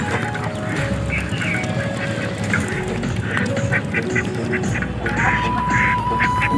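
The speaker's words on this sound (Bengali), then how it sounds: "বাজারের দিকে যেতে যেতেই দেখতে পেলাম কিছু হাঁস নদীর পানিতে গোসল করছে" Ducks quack repeatedly while bathing in river water along the Brahmaputra near a riverside market, their calls scattered and fairly close over a constant outdoor wash of water and ambient noise.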